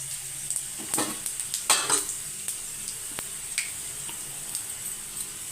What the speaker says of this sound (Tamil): இப்போ வந்து கோவக்காய் பொரியலுக்கு எண்ணெய் ஊற்றி வச்சுருக்கேன் கடுகு கொஞ்சம் சீரகம்